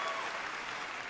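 Audience applause from a comedy talent show crowd, a dense steady wash of clapping that fills the whole moment without a break, fairly distant and even in level with no voices on top.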